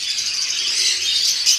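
A bred gintong parisan bird calls, a bright sustained chirping and warbling that is close and fairly loud, with no voices.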